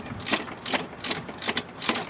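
A ratchet wrench backs out suspension bolts on a 2005 Subaru Legacy GT, with short, loud, clicking bursts repeating in an uneven rhythm close by.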